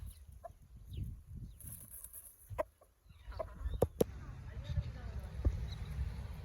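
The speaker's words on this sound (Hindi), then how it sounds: "मुर्गे के पीछे लगे हुए हैं। मुर्गा हमसे जो है ना नहीं पकड़वा रहा।" A rooster being chased clucks in short, scattered bursts at moderate distance, while people talk and move about on a quiet farm.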